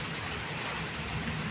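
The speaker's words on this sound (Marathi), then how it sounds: "आता रिप रिप रिप पाऊस सुरू झालेला आहे पडायला।" Steady rain falls during a windy evening thunderstorm, a dense continuous hiss of drops on surfaces with no voices.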